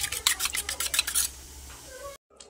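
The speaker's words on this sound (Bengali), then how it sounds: "কর্নফ্লাওয়ার জল গোলা হয়ে গেছে, এটা আমি চিলি চিকেনটার মধ্যে দিয়ে দেব।" A spoon clinking and scraping rhythmically while stirring cornflour water into chili chicken in a pan, a quick run of sharp metallic taps that fades to quiet, with a brief soft touch at the end.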